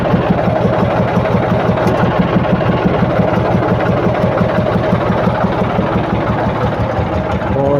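A tractor engine runs steadily at raised revs while its hydraulics struggle to lift a trolley that is not rising: a loud, close, even diesel throb with a rhythmic pulsing, holding steady throughout.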